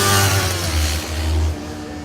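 Kawasaki Ninja 400 motorcycle engine revving up loudly at close range, a deep steady drone that holds for about a second and a half before easing off.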